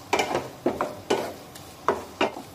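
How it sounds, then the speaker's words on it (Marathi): Spices with a little turmeric being sautéed for a green pea usal, giving a few separate scraping stirs with a soft sizzle between them. The sound is close, moderately loud and irregular, with no talking. "आता हे सर्व मसाले व्यवस्थित परतून घेऊया।"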